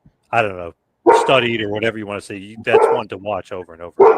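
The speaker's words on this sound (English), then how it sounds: "Sorry about the dogs." Dogs bark in short bursts mixed with a man's close, steady talk, the yips blending into the conversation.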